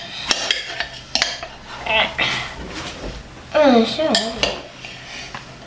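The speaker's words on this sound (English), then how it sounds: "Stir them all up, mix up the carrots and the onions." Sausages, carrots and onions stirred in a pot for a sausage casserole, with a spoon clinking and scraping against the pot in short bursts while people talk nearby.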